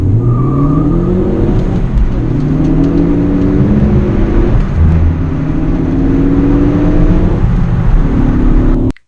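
Tuned Ford Focus ST accelerating flat out from a standstill, engine pitch rising repeatedly through several gear changes, loud and close, cutting off abruptly at the end.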